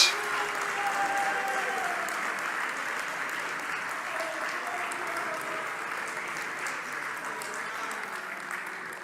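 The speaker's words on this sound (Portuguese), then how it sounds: "Vocês podem aplaudir a Jesus Cristo, adoradores," Church congregation breaking into sustained applause, a dense, even patter of many hands clapping that starts abruptly at full strength and slowly tapers over several seconds, with no talk over it.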